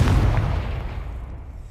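A spell blast in Hogwarts Legacy lands as one heavy, low boom that rumbles and slowly fades, close and loud, with no talking.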